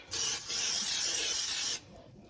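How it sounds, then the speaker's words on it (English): Two bursts of hissing cooking spray onto pretzel dough in a bowl, a short puff then a longer steady spray, close and clear, followed by quiet. "And then I like to cooking spray the top."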